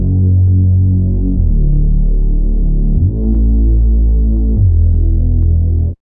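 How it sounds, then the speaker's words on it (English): A Silent One preset synth bass closes the intro of a remix, playing deep, throbbing held notes that shift pitch every second or so in a steady bassline, loud and alone. "The last sound of the intro is this bass."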